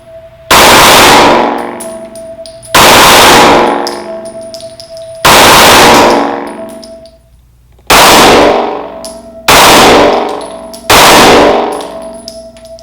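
Six loud 9mm shots from a Glock 43X pistol at a shooting range, spaced a second or two apart, each a sharp blast with a long ringing tail, close and with no talking.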